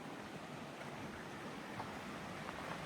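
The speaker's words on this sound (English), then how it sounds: "Got water running right there." Water from a stream running near a backcountry campsite on the way to Ribbon Falls, a quiet, constant rushing wash with no other sounds.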